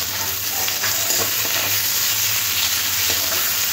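Tomatoes fry lightly in a pan for a fish curry, giving a constant close crackling sizzle with faint stirring scrapes and no voices.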